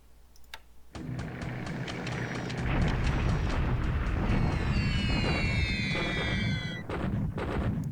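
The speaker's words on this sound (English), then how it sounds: "Yes, port and airstrike on Balikpapan." In the War in the Pacific strategy game, an airstrike on the port of Balikpapan brings a thick rumble of bombing and gunfire. Whistling falling shells streak through the middle, then the noise drops away near the end.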